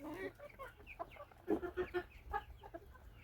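Crested chickens and roosters of a large breed cluck and murmur in a steady, busy chatter, fairly close by, with no talking.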